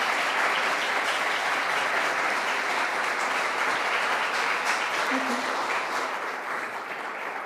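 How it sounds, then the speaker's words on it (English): Sustained audience applause at an architecture award ceremony honoring an absent prize winner, a broad, even wash of clapping that holds steady and thins slightly toward the end. "I'm gonna ask for her a special applause because she's not here"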